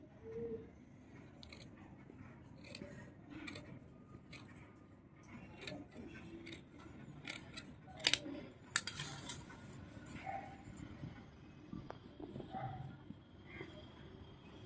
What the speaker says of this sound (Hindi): अब हमें इसको कटिंग कर लेना होगा।